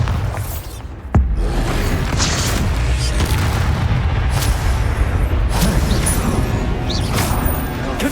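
A Confringo spell explosion in Hogwarts Legacy: one sharp, loud blast near the start, followed by a continuous heavy roaring rumble that stays loud to the end.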